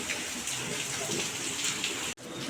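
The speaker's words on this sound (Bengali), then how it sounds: "অনেকক্ষণ ধরে বৃষ্টি হচ্ছে" Steady rain falls in a continuous broadband hiss with faint patters, heard close and unbroken for most of the stretch before a brief dropout near the end, with no talk over it.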